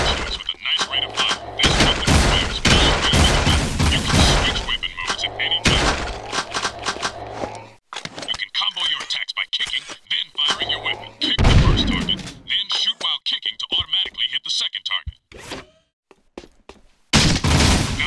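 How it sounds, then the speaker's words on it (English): Rapid blaster fire in the video game Jak II comes in dense, loud bursts with booming impacts and breaks of a few seconds between volleys, over the game's action sounds. "The blaster is a good all-around choice with a nice rate of fire."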